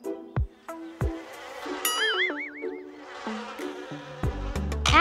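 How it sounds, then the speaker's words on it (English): Bees buzz around garden flowers in a cartoon-style mix of short buzzing tones and wobbling sweeps, with plinks and a boing-like sound near the end. "bees are more interested in flowers because they feed on the sweet nectar it provides."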